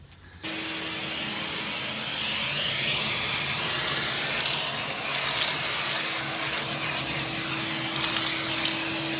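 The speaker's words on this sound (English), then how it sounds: "I'm gonna vacuum up in here real good." A vacuum cleaner switches on inside a 1968 Ford F250 pickup cab and runs with a steady whooshing roar and a constant motor whine, close and loud throughout.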